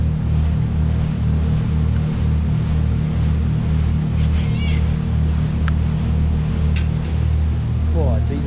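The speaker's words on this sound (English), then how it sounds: "Paddle in action." The Murray Princess paddle steamer's paddle wheel churns steadily through the water, a loud continuous rumbling wash with a rhythmic low throb under it and a few faint background sounds.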